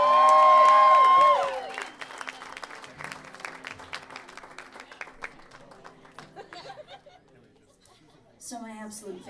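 Audience at an acoustic music event in Denver, Colorado, bursting into loud applause with whoops and cheers, then settling into scattered clapping and chuckles before a voice speaks at the end.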